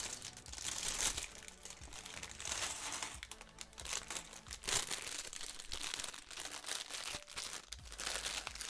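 Steady crinkling and rustling of a plastic LEGO parts bag being opened for a Harry Potter Fawkes phoenix set, close and continuous, with brief louder crackles, no talking.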